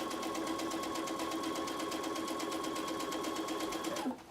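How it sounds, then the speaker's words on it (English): A sewing machine stitches fabric pieces for a Dresden plate quilt block, a steady rapid rhythmic hum running close and continuous before stopping abruptly near the end. "Get those first few stitches, holding my fabric, take the pin out"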